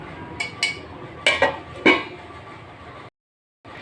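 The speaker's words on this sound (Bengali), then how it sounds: "এই যে আমি ঢাকনা খুলে নিয়েছি" Metal lid lifted off a pan of vegetarian paneer curry with fried potatoes, giving a few close clinks and scrapes of metal against metal, then a short silence.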